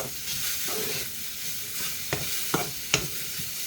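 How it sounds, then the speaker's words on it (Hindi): A spoon stirs tofu tadka in a hot pan, with steady oil sizzle under a few sharp scraping clacks of the spoon against the metal toward the end. "इसको अब चला लेते हैं।"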